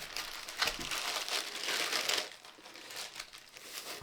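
Rough puff pastry dough being unwrapped from its wrapping, a steady crinkling and rustling of plastic or paper at close range, continuous for a few seconds with a brief louder crackle near the start.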